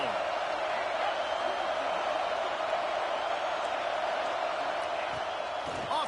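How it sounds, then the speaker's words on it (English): Stadium crowd noise in an American college football video game, Minnesota versus Ohio State: a steady, dense roar of a large crowd throughout, with no clear breaks. "This crowd ready to make its presence known."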